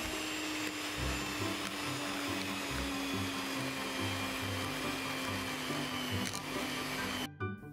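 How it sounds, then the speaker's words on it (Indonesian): An electric hand mixer whips chiffon cake batter with liquid milk, cream cheese and powder, a loud steady whirring drone with slight rattles that stops abruptly at the end. "Lalu mixer hingga teksturnya sedikit kental, lembut, dan foamy kayak gini."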